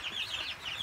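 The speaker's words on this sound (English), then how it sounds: "I wonder what the broody hen thinks of all these chicks." A broody hen among chicks gives a short run of soft clucks, mixed with high peeping from the chicks, close by and steady.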